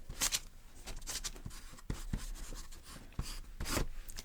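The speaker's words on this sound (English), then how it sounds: "Let me write that down." Chalk writes on a chalkboard in quiet, close scratchy strokes, a string of short rubbing bursts with small taps between them and no voices.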